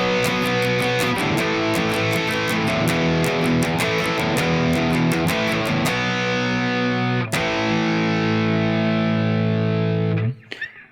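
Distorted electric guitar strums steady power chords in the pre-chorus of a song: loud and dense, with a quick break near seven seconds, then the chords ring on before cutting off abruptly at the end.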